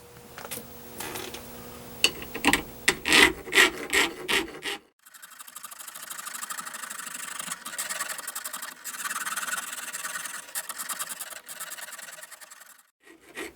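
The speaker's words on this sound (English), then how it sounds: "I'm just very lightly filing on that to round off that edge" A flat file lightly rasping an inside edge of a metal AR15 wrench to round it off, starting with a few sharp separate strokes, then settling into a steady run of quick close-up back-and-forth filing.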